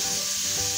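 Chopped onion sautés in a pan of rendered chorizo fat, giving a brief, steady, close sizzle with a soft broadband hiss and no voices.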